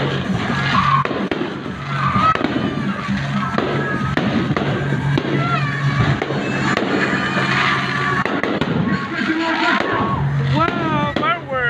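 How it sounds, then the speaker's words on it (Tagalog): Fireworks bursting outdoors in a steady run of pops and crackles, loud and continuous, with excited voices shouting and cheering over them throughout. "Wow, fireworks!"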